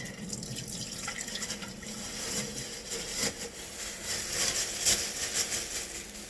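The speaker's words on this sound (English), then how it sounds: "Just going to drain the water out of the spinach." Water draining and splashing out of a container of washed spinach into a sink, a faint, uneven trickling with small drips and clatters, quiet and close.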